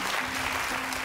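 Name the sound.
studio audience applauding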